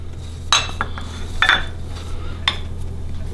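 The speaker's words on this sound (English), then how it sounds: "the first thing what we're going to do is mix all these dry ingredients together. And then mix it into the flour." A spoon clinks against a bowl while dry ingredients are stirred into maida flour for bhatura dough, three or four sharp close scrapes and taps spaced about a second apart over a low steady hum.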